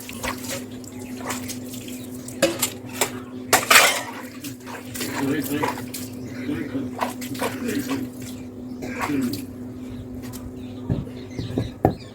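Dishes and utensils washed with water at an outdoor sink in an Indian home, with repeated clatter of pots and cutlery and splashing water running throughout, while a steady hum sits underneath and a voice talks intermittently.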